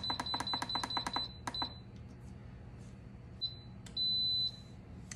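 An Instant Pot pressure cooker set on manual for five minutes gives a rapid run of short electronic beeps, then two more. A single longer tone sounds near the end over quiet room hiss.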